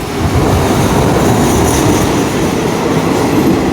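Special express train Thaksinarat running through Photharam station in Thailand, a loud steady rumble of wheels and rail noise holding constant throughout with a faint high squeal.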